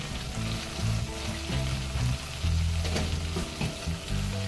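Spices with salt and turmeric fry and sizzle steadily in hot oil for a Bengali pabda fish curry, with a spoon stirring and scraping the pan in intermittent clunks, close and fairly loud, no voices.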